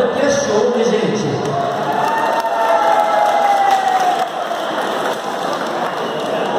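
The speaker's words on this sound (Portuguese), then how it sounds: "vamos dar uma salva de palmas para essa banda que é show" A crowd at a town festival applauds and cheers for a band, a dense, loud wash of clapping and shouts that carries on throughout with voices mixed in.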